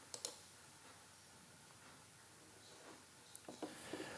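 A computer mouse gives a few sharp, quiet clicks, a pair near the start and a small cluster near the end, over faint room hiss.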